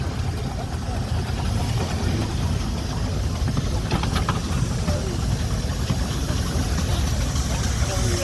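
A 9-inch scale steam traction engine, three-quarter size and built in 2008, rolls past as heavy haulage, giving a loud, continuous low rumble and churning mechanical noise that stays steady throughout.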